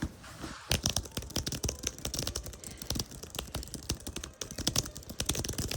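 Rapid typing on a Logitech MX Keys for Mac scissor-switch keyboard, a dense run of light clicky keystrokes with brief pauses, close and moderately quiet.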